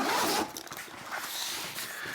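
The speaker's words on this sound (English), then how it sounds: "the only way to access stuff on the inside of the backpack is to open it up" A Peak Design 30L travel backpack is unzipped open: a close, scratchy zipper run starts with a loud pull, then continues with a softer rasp across the rest, with no voices.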